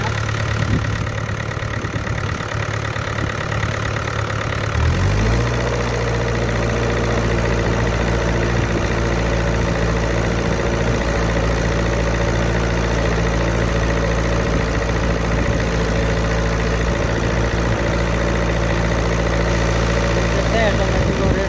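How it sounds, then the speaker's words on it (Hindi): A Miller diesel welding machine engine runs loud and steady. Its speed shifts on its own partway through and then holds at a settled, droning idle-like pitch with a continuous low rumble. "ऑटोमेटिक वो रेस अपने आप ऊपर नीचे हो रहा है, कट ऑफ हो रहा है।"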